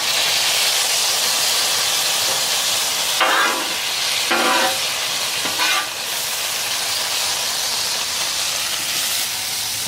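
Peppers in red wine vinegar on a hot Blackstone griddle, making a loud, steady sizzle and hiss, broken by a few short scraping stirs as they are pushed around.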